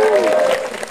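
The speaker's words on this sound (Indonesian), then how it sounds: "tepuk tangan buat Mbak Tanti" Audience members at a lively religious gathering in Magelang clap together in a short, dense burst of applause that trails off. A voice talks over the clapping.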